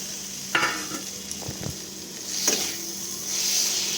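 Eggplant stir-fries in a pan with fish oil, salt and turmeric, a soft, steady sizzle broken by a few sharp spatula scrapes and knocks against the pan, fairly quiet and close.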